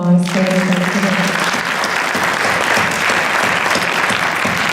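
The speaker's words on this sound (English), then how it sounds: "Let's give a big round of applause for everybody today." An audience at a community forum breaks into steady applause right after a voice, a full, continuous patter of many hands clapping that holds at an even level and sounds close.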